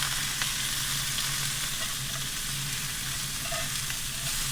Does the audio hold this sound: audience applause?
no